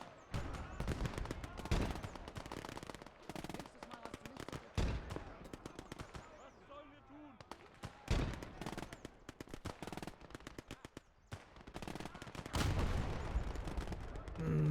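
Bursts of .50 cal machine gun fire in the World War II video game Gates of Hell, rapid rattling strings of shots repeating again and again at a fairly distant, low level, with brief gaps between volleys.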